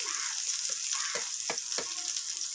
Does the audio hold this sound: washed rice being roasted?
yes